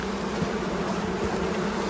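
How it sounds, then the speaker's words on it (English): Honey bees being emptied onto the top of a hive during a sugar shake test, a dense, steady buzzing swarm close to the microphone, continuous and fairly loud with no voices. "And what we'll do is empty the bees"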